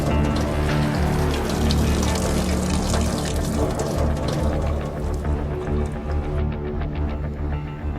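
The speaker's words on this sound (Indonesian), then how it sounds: "Kok ada suara air ngucur ya? Siapa yang buka keran?" Water pours steadily from a tap somewhere in a home, a continuous close rushing splash that holds at the same level for the whole stretch with no voices over it.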